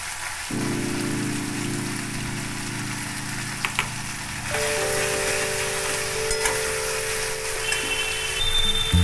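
Poppy seed paste hits hot oil in a pan with boiled taro stolons, giving a steady close crackling sizzle that jumps louder about halfway through, with a faint low hum underneath.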